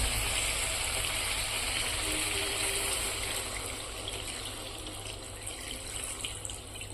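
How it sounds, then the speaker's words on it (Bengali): Water pours steadily into a pan of meat curry that has been well fried until the oil separates, a continuous close rushing gush that eases slightly toward the end. "এখন দিয়ে দিব জল।"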